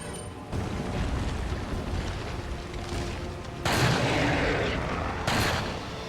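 Magnum shots in Resident Evil 4 on PS4: a steady roar of game noise broken by two heavy, booming blasts about a second and a half apart, loud and close.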